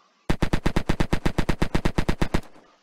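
A machine gun firing in a 1938 alt-history Sudetenland Crisis video game mod, a loud, steady burst of about twenty evenly spaced rapid shots, then a short echoing tail.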